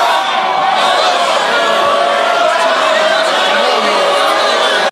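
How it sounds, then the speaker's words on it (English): A crowd boos at a rap battle, a loud, sustained wall of booing and jeering voices that fills the space without a break and stops abruptly at the end. "He hears the booing"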